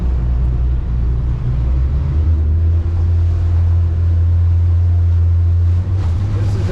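A Stabicraft 2250 Ultra CC aluminium boat with a Yamaha F300 outboard powers hard in reverse, a loud steady low engine drone with churning water and wind rush throughout, no voices.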